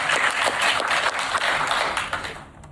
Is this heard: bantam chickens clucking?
no